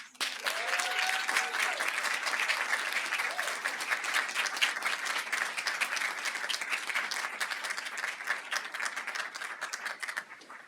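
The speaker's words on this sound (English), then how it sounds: "Let's have one more round of applause." Sustained audience applause at an awards ceremony, dense steady clapping from a crowd filling the room for about ten seconds, with a faint voice briefly audible early on.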